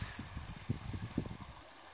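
Water from the Danube, running high and swift near Oltenita, flows with faint gurgling and lapping pulses, soft and irregular, with no one speaking.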